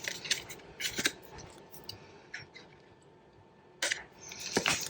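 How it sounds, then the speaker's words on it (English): Scissors cut paper tag shapes for a Z-fold craft tag, with several crisp close snips at irregular intervals and quiet pauses between them. "I need to sort these scissors out"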